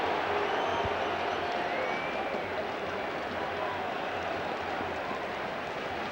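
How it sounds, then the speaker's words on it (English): Stadium crowd at a 2002 Leinster Gaelic football semi-final between Dublin and Meath, a dense, steady roar of distant cheering without breaks. "The crowd getting really behind both teams here"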